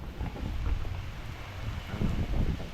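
Wind gusts during rain roar in low, rumbling buffets across the microphone, steady and close with no voices.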